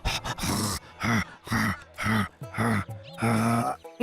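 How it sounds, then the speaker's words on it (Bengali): A sick man coughs and groans in a series of about seven harsh, rhythmic bursts, close and fairly loud, with no other voices. "উনি তো শুধুই কাশছেন।"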